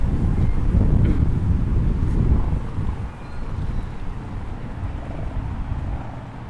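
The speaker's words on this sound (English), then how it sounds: "I'm getting rained on more now." Gusting wind buffets the microphone outdoors during a rainy walk, a heavy low rumble that is strongest early, then eases to a steadier blustery roar with light rain hiss beneath.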